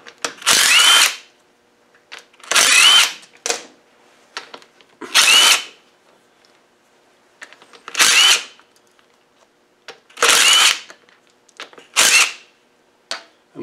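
A power tool spins out bolts from the top cover of an LT77S gearbox during a 200Tdi rebuild, with about seven loud whirring bursts of around a second each, separated by short pauses and small clicks, very close.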